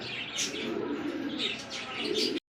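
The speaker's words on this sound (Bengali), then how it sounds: "চলে আসলাম আরো এক পেয়ার কবুতর" Fancy pigeons such as white Sirajis cooing in a bird market, several soft throaty coos repeating close by with chirps mixed in, no talking.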